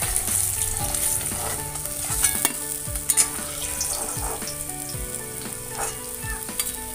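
Pieces of rohu fish frying in hot oil, a continuous crackling sizzle with several sharp clatters of a spatula or utensil turning and lifting them, close and fairly loud.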